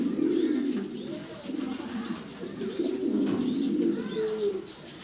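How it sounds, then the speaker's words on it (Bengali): Racing pigeons, blue racer hens and cocks, coo steadily in low, throaty rolling phrases, close by and continuous, with faint chirps above the cooing. "দেখার মতো কোয়ালিটি ফুল কবুতর, সব রেসার।"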